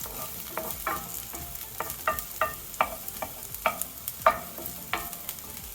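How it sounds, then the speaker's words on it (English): Onion sizzles softly as it stir-fries in a hot cast iron pan while a utensil scrapes and taps against it in irregular strokes, close up, no talking. "I'm going to stir fry these until it's softened."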